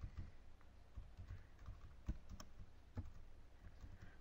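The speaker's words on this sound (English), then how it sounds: "So we type in population standard deviation." Quiet keystrokes on a computer keyboard, a sparse run of soft clicks typed at an unhurried pace, faint and close over low room hum.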